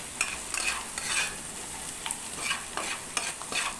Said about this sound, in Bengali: এরপরে ভালো করে নাড়াচাড়া করে নেব।